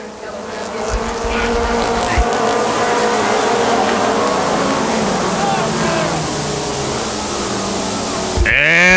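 Pony stock race cars run on a short oval track, their engines blending into a continuous, buzzing drone that holds steady and fairly loud, with a voice over the top.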